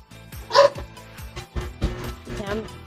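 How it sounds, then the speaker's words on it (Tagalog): A small dog in an indoor room barks and yips repeatedly in short irregular bursts, close and fairly loud, with a louder bark early on and a person talking between and over the barks. "May aso-aso pa dito."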